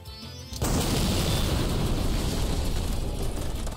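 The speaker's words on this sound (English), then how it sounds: "It's just a minor explosion." A loud video-game explosion in Garry's Mod bursts in suddenly after a brief quiet moment, then a sustained, roaring blast and rumble fills the rest of the clip without easing.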